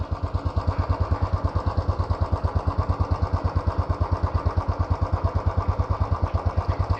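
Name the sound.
Royal Enfield Classic BS6 motorcycle engine exhaust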